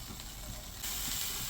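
Shrimp risotto cooking in a pan as broth is added and stirred, a soft continuous sizzle with light scraping, growing into a brighter, louder hiss partway through.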